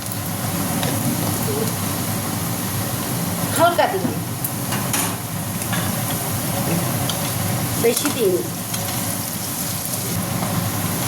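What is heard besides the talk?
potatoes frying in a pan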